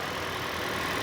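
A Lexus car engine, freshly repaired after a head gasket job, idles steadily with a smooth, even rumble, close by and continuous, no voices over it.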